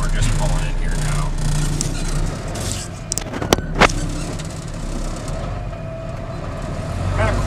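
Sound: scrap-hauling truck pulling in at Weitsman's scrap yard

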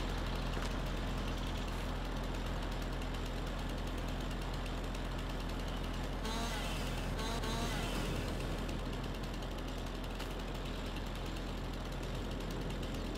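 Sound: vehicle engine idling in video game

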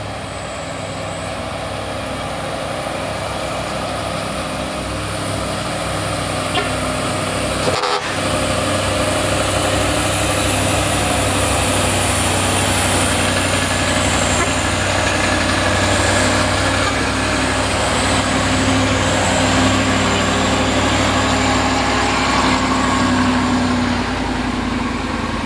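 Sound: vegetable trucks climbing Bukit Kodok hill

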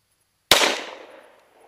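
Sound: gunshot at 25 yard target

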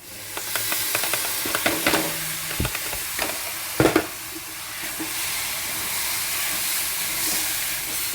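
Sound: stirring mango pickle in a pan

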